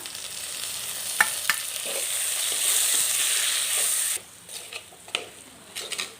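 Chopped ripe tomatoes frying with onions in a pan for ginger chicken, a steady close sizzle with a few utensil clicks and stirring scrapes, then the sizzle drops to quieter crackling.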